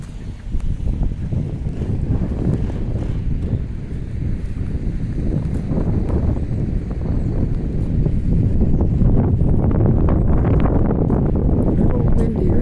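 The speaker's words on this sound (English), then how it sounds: "a little windy right here" Steady, loud wind buffeting the microphone throughout, a continuous low roar with gusty surges and no clear talk.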